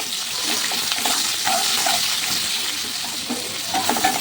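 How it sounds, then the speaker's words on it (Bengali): Onion fries in hot oil in a pan with a steady close sizzle, mixed with light stirring scrapes and a few clinks, continuous and fairly loud, with no talk. "এগুলো ভাজা হয়ে গেছে, এবার পেঁয়াজটা দিয়ে দেবো।"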